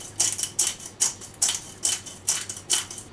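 A pepper grinder crunches in a steady rhythm, about eight quick grinding bursts close by, with no talking.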